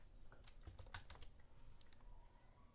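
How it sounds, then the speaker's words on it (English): Computer keyboard typing, a quick burst of several key clicks fairly close, with a soft steady room hum underneath and no talking. "I'm gonna type in MACD"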